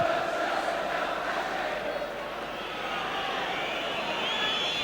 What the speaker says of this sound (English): Frantic whistling in the crowd.